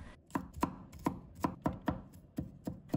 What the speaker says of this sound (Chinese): 再把它切成蒜末。